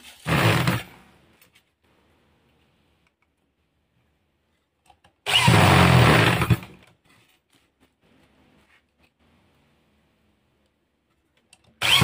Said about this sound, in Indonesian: oke kita baut dulu kita baut biar cepat